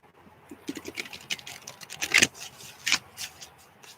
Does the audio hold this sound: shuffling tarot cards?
yes